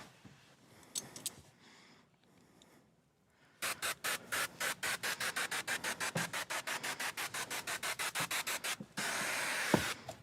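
Someone wipes a Ram ProMaster van windshield with a clean towel and rubbing alcohol, first in a few soft scrubs and then in a fast, steady run of close, even rubbing strokes, with no talk.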